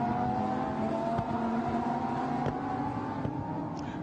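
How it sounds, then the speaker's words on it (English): Lamborghini Super Trofeo race cars accelerating together from a rolling start at Paul Ricard, a steady distant engine drone with rising tones and no talk over it. "Pleased to see all the cars have got away for the rolling start."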